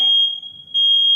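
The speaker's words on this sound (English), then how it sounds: "Come on, fire alarm, go off." Piercing, loud, high-pitched electronic beeps from a smoke-type fire alarm triggered by a torch shone at it, two sustained tones split by a brief gap, with no voices.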